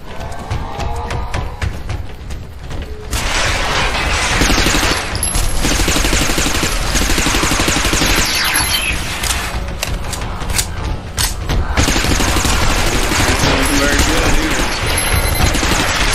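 Video game gunfire in Interstellar Marines, dense bursts of rapid automatic shots and crashing impacts that fill most of the clip loudly, with players shouting over the action.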